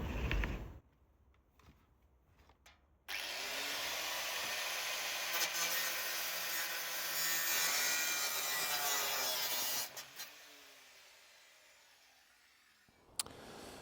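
A car undertray panel for a Gardner Douglas 427 Mk4 AC Cobra replica being cut along a masking tape line, a steady rasping saw or cutting tool running for several seconds after some brief handling noises, close and fairly loud, no talk.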